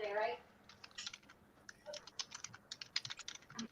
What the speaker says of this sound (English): she's typing again